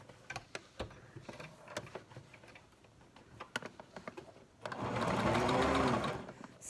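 A sewing machine stitches down the pleats of a simple fabric face mask. First come scattered sharp ticks and clicks, then a loud, steady motor whir with needle chatter for about two seconds, close and alone.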